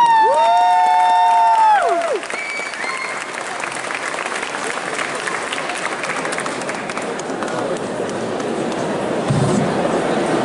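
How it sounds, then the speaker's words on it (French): A crowd at the Necronomicon cosplay contest applauds loudly and steadily for several seconds. A shrill whistle or cheer rises over the start, and the clapping stays dense to the end. "On applaudit tout de suite là maintenant."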